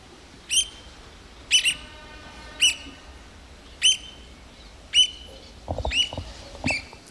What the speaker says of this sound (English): I've never heard an oyster catcher sounding like that